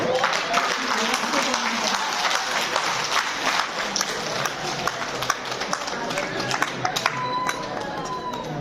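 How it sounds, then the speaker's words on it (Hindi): Audience clapping at a group activity session, a dense, steady patter of many hands sustained throughout, fairly close, with voices mixed in underneath. "ताली बजाओ"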